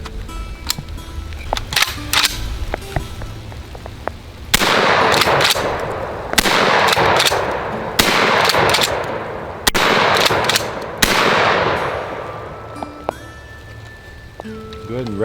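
A Blackwater Sentry 12 shotgun fires light squirrel loads in a rapid string of loud, sharp blasts, each with a short ringing tail. Sparse lighter clicks and handling noises come before the shots, and a faint tone sounds at the end.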